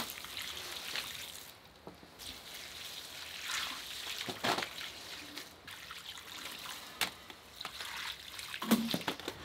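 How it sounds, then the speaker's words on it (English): A little water poured onto frozen potting soil in garden pots in January, soft trickling and dribbling in short bursts, close and fairly quiet. "I'm just going to put a little bit of water in all these."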